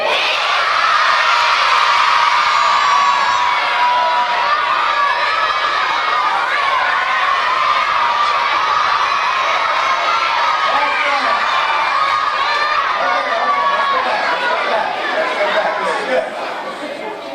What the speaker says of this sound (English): And now everybody yell out, who's the name of your favorite teacher?